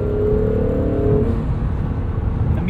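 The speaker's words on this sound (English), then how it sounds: "once the turbos kick in, putting your foot down in this NSX is just wonderful" A 2022 Acura NSX Type S with a twin-turbo V6 hybrid powertrain pulls hard, a loud, close, steady engine drone and whir that rises briefly and then settles into a rumbling, slightly uneven roar, with no talk.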